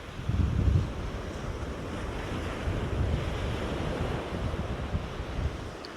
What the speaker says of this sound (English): there is a fair gust of wind